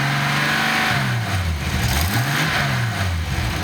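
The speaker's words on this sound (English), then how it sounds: "You hear the RPM pick up. Let's see how it stays when I throttle it." A Datsun 280ZX turbo engine revs under throttle, its pitch rising and falling in swells over a steady loud drone, heard close with no talking.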